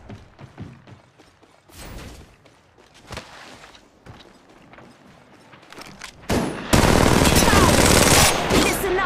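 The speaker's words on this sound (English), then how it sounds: "Listen up, I'm getting shot at." Gunfire in the mobile game Apex Legends Mobile, beginning as scattered sharp shots and thuds between pauses and then becoming a loud, sustained burst of rapid fire near the end, with no talk.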